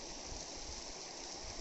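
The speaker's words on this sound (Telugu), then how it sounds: "ఇక్కడ కొండల నుంచి వాటర్ వస్తుంది బా" Water flowing down from the hills near a long natural rock slide, a steady broadband rushing wash that stays constant and moderately loud with no voices.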